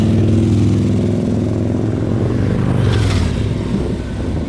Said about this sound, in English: there is a blistering wind today